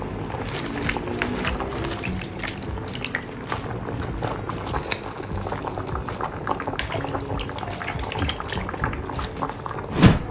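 Steady bubbling and simmering of pork sinigang broth in a pot, continuous throughout, with a faint clink near the end.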